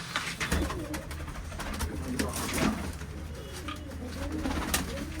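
Pigeons coo in low, repeated throaty calls in an outdoor loft area, close and continuous, with scattered rustling and background noise throughout.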